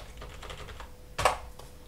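Quick taps on a computer keyboard run in a short burst and end with a louder keystroke, like pressing Enter, close up and alone.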